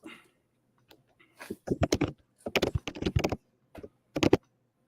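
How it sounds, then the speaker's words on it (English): Loud, close computer keyboard typing comes in quick clattering bursts separated by short pauses, with no voices over it. "It is loud when you type."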